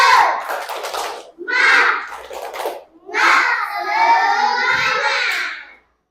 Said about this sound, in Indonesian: Kita kasih tepuk semangat lagi. 1, 2, 3. Tepuk semangat.